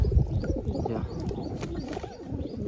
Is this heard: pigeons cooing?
yes